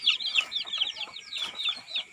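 Native chickens cluck and chatter in a backyard coop, a busy overlapping run of close, fairly soft calls over about two seconds.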